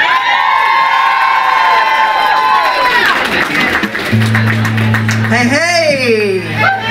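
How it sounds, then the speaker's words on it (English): A crowd at a live music benefit concert claps and cheers loudly for a band coming on stage, with whoops and shouts filling the room as an amplified voice speaks and a sustained feedback tone rises near the end. "put your hands together and clap as loud as you can"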